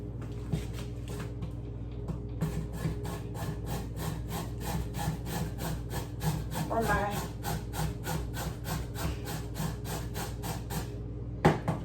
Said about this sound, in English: Now I have my little grater, which I will be using.